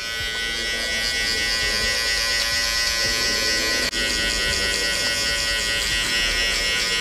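Electric hair clippers buzz steadily and loudly, close up, while a barber tapers and blends a skin fade into a number two length, with one brief dip in the hum midway through.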